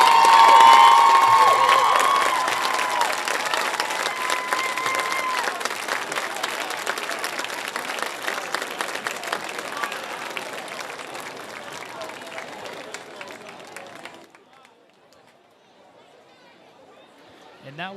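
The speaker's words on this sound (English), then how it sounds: "A round of applause for the Homestead Spartan Alliance Band." Crowd applause and cheering for the Homestead Spartan Alliance Band at a high school football game in Fort Wayne, Indiana, loud at first and then tapering off for about fourteen seconds before falling to near silence.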